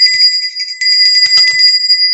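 A bright bicycle-style bell rings rapidly in a continuous trill, loud and close, with sharp metallic tones throughout.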